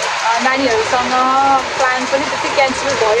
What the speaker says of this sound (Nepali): यसरी नै पानी पऱ्यो भने चाहिँ गइन्न